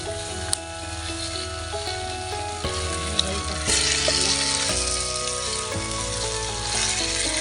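Chicken sizzling and frying in a pan with tomato and onion, a steady close hiss with occasional stirring clatter and shifting bursts as pieces are moved, in a village kitchen for chicken curry.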